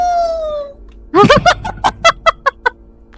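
Chicken clucking in the horror game Escape the Backrooms: a run of about eight short, sharp clucks in a quick, slowing rhythm, loud and close, following a faint whistling tone.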